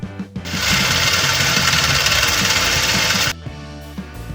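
A rotary tumbler machine runs at its maximum speed of about 70 RPM, giving a loud, steady mechanical rattle and hum that starts after a brief knock, holds for a few seconds and then drops to a quieter running tone.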